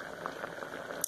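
Pumpkin sweet simmering over low heat in a half-covered pot, a steady soft bubbling and light liquid patter that runs on its own throughout, close and quiet.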